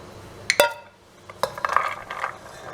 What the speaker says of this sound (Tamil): இதை வந்து இப்போ வந்து மிக்ஸ் பண்ணுவோம்